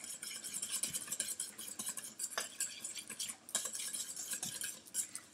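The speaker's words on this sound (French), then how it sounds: "Allez, on mélange tout ça." A spoon stirs a milky mixture in a bowl, with faint, quick clinks and scrapes that repeat in an uneven rhythm.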